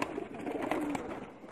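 Pakistani high flyer pigeons coo softly nearby, low warbling calls over a faint outdoor background, with no talk.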